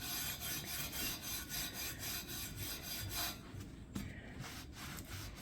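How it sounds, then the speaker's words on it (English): Dry steel wool (Scotch-Brite) scrubbing a sticky Blue Star grill surface in steady back-and-forth strokes, a close, rhythmic rasping that continues throughout. "I want to try to scrub that with this. It's just basically dry steel wool"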